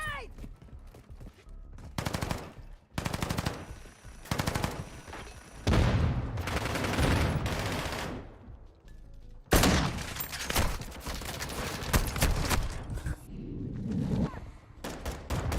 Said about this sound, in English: Tossing a decoy grenade!